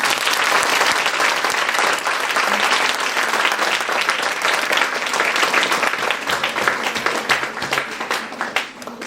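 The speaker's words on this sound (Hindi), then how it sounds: "देखो तो एक बार जोरदार तालियां हो।" An audience at a classical music program in a women's college in Nadiad breaks into loud, sustained applause, a dense roar of clapping that thins slightly toward the end.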